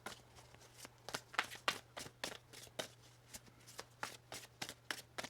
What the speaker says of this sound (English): Let's get one more shuffle here for you.